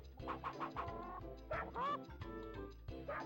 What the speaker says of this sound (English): Now we have to get the hens back in their coop.